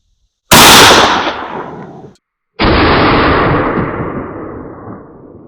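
Two very loud, close shotgun blasts from a 12-gauge firing 3-inch #4 and #0000 buckshot at a range, each followed by a long rolling decay; no voices.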